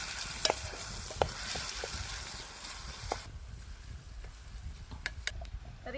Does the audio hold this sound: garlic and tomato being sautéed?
yes